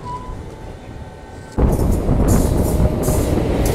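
Gomti Express passenger train arriving at a station platform: a sudden loud rumble of the train rolling in, with rhythmic wheel clatter building over steady station noise.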